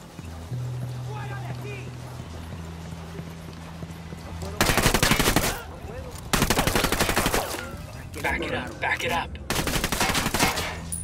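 Gunfire in the video game Operation Kingslayer: quiet rustling and a low tone first, then loud sustained bursts of automatic fire in several long volleys separated by short gaps, with a voice talking early on.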